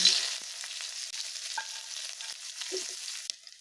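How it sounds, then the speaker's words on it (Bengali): Onions frying in hot oil give a continuous close hiss and crackle with a few soft stirring taps, steady and alone for a few seconds. "এখন আমি পেঁয়াজগুলো ভেজে নেব।"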